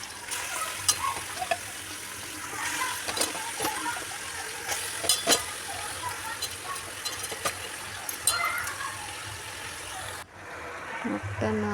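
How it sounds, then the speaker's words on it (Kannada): Mutton frying in a pan on a gas stove gives a steady sizzle, broken by scraping stirs and clatters, before the sound abruptly drops away near the end. "ಇವಾಗ ನೋಡಿ ಮಟನ್ ಹಾಗೆ ಹುರಿತಾ ಇದ್ದೀನಿ ಗ್ಯಾಸ್ ಮೇಲೆ."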